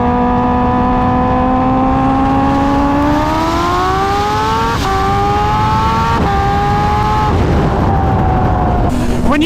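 A car held in second gear revs hard and climbs high into the RPM range. Its loud, close engine note rises steadily, drops briefly at a few points, then drops back low near the end.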